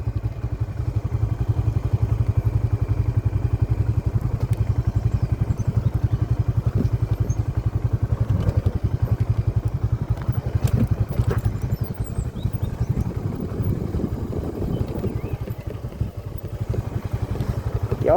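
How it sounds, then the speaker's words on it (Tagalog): A motorcycle engine runs steadily on a hill road near Imugan Falls in Nueva Vizcaya, a loud low drone that holds throughout with some clatter and thumps. "Kaya ng motor ko, kaya ng motor ko to."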